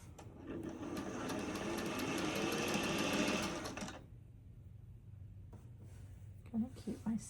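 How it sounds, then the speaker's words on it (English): For a LeMoyne Star quilt block, a sewing machine stitches in one steady, close, whirring run of about four seconds, then stops, leaving quiet handling sounds and a soft voice. "let's hop over to the sewing machine and get this block together"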